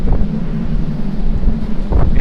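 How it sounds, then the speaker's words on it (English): Strong wind buffeting the microphone outdoors, a loud continuous roar with gusty fluctuations for a couple of seconds, with a brief voice near the end. "I'm somewhat out of the wind there, but further, and it'll hit really hard"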